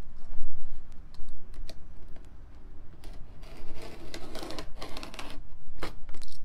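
A knife cutting birch bark against a straight edge on a cutting board, heard as a run of close, irregular scraping clicks and taps in uneven bursts, with no talking.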